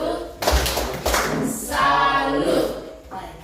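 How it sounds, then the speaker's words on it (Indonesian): A group doing the rhythmic "tepuk salut" clap at a school session with principals, sharp unison claps in short patterned bursts, mixed with voices chanting along. "Mari kita tepuk salut dulu. Tepuk salut."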